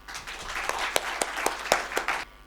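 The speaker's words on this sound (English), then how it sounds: "With a huge round of applause, please welcome on stage one of the founders of Viewton Designs Private Limited" An audience at an architecture and interiors design debate in Jaipur claps to welcome a speaker on stage, a modest patter of hands with several sharper individual claps standing out, no voices.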